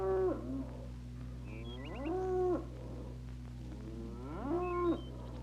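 Cattle on a farm mooing, two long drawn-out lowing calls a couple of seconds apart over a constant low hum, no talking.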